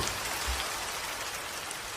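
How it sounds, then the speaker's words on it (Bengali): Heavy rain pours down in an even, dense hiss for about two seconds, with no voices. "আবার তুমুল বৃষ্টি নামল"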